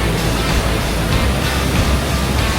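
A powerful waterfall in Thailand pours heavily, producing a loud, dense, unbroken roar of rushing water that fills the whole stretch without pauses or voices.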